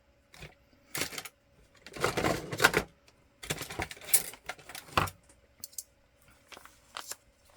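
Scissors cut through thrifted denim fabric in several short bursts of crisp snipping and crunching, close and fairly quiet, separated by pauses and small handling noises, with no voices.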